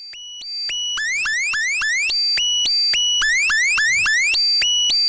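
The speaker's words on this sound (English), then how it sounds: "That's our spoiler alarm. That's the loudest alarm sound ever." A very loud electronic alarm sound effect used as a spoiler alarm: rapid repeating rising whoops and beeping tones cycling steadily for several seconds, close and piercing, with no talk over it.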